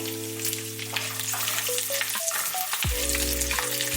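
Chana dal, dried chillies and curry leaves drop into hot oil together, crackling and sizzling loudly and continuously over a steady background hum, close up with no talking.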